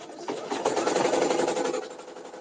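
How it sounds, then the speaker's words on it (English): Embroidery machine sewing a placement stitch, a fast steady needle chatter that starts abruptly, runs for about two seconds nearby, then eases off. "now let me put down the placement stitch for my other piece"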